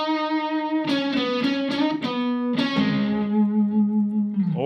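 A short, neutrally played electric guitar phrase with distortion: a sustained note broken by a few plucked notes, steady and even, with no talking.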